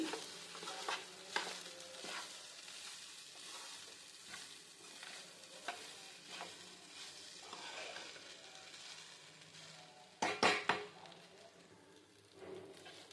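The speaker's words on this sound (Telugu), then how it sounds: "అన్నాన్ని వేసుకొని ఇలా బాగా కలుపుకోవాలి" Cooked rice being stirred into a masala egg mixture in a pan makes a soft, continuous sizzle. Repeated scraping strokes from a spatula run through it, and a few sharper knocks come near the end.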